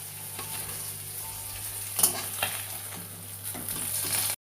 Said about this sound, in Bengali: মাছগুলোকে এপিট ওপিট করে ভাজা করে নেব